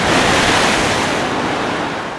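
Atlantic Ocean surf washing onto the seashore at Lompoul, Senegal, a steady, loud roar of breaking waves with some wind across the whole stretch, no voices.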